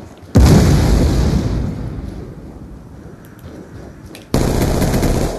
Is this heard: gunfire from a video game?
yes